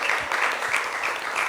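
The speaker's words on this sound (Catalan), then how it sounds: "Un fort aplaudiment per a la Maria" Studio audience on a TV quiz show breaking into dense, even applause, a continuous wash of many hands clapping together.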